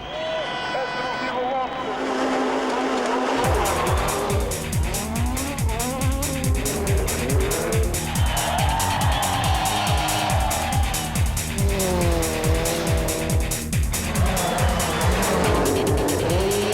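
Rally cars race head-to-head on a stage of the 1998 Rally of Portugal: engines scream close by at high revs, rising and dropping with repeated gear changes, with occasional tire squeal and a voice talking over the continuous roar.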